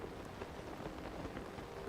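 Steady rain hisses throughout a foggy video game scene, a soft, even wash of patter with no break and no voices.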